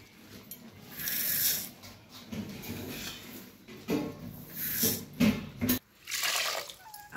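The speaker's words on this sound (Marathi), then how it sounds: "तांदूळ धुवून घेतले स्वच्छ।" Rice is washed in water inside a pressure cooker pot, with bursts of splashing, swishing and pouring at close range separated by brief quieter gaps.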